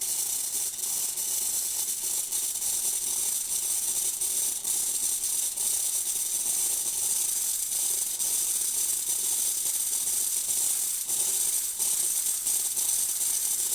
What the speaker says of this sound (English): you're just going to wait until it gets to a pretty dry steam